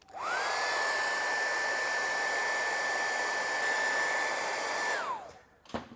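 A handheld hair dryer blows steadily to dry freshly applied paint, a loud continuous whir with a rising whine at switch-on and a falling pitch as it shuts off near the end, followed by a brief clatter.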